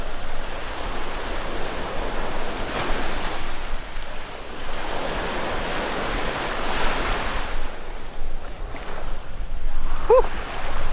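Choppy Gulf of America surf washing steadily onto a beach, a broad continuous roar of breaking waves with wind noise, surging and easing over the whole stretch.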